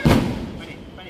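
A Diwali firecracker bursts with a single loud, close boom at the start, then fades into a decaying rumble.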